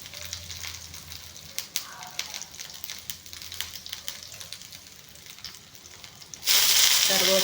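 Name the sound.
crushed garlic frying in oil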